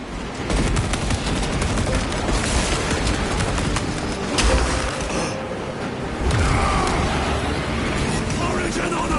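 Gunfire in Space Marine 2 against Tyranids, dense bursts of shooting and mechanical clatter in a loud, chaotic battle mix, with voices shouting over it.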